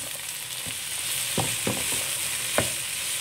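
Bee hoon with shredded cabbage and carrots is stir-fried in a pan, with a loud continuous sizzle throughout and a few soft scraping stirs on top.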